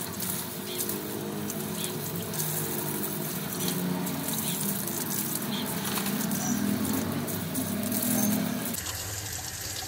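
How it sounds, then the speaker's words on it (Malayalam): Water poured over a vehicle being washed outdoors in sunlight, a continuous splashing, rushing wash under the whole stretch, fairly close, briefly cutting off near the end. "ഞാൻ വെള്ളം ഒഴിച്ച് ഇപ്പോൾ വണ്ടി കഴുകാണ്"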